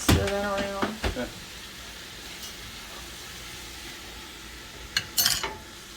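Ground beef and stock stirred in a soup pot for pasta fagioli, with a quick burst of spoon scrapes and clinks near the start, then quiet simmering, and a few more scrapes near the end.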